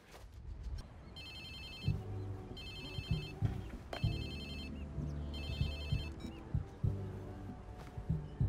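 A phone rings in the video game Watch Dogs 2, four evenly spaced electronic trilling rings of about a second each, set over a busy bed of music and game sounds.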